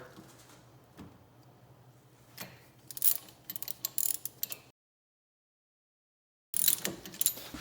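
Brake caliper being removed with hand tools from a Porsche 996/997/986/987, giving clicking ratchet strokes and metallic clanks that grow busier partway through, then a short silence before a final burst of close mechanical rattling.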